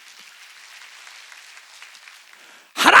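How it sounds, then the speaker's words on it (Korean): A church congregation at a Sunday worship service applauds in a soft, distant patter that stays fairly even, then a sudden loud close burst cuts in at the very end. "박수 치려면 세게 치라고"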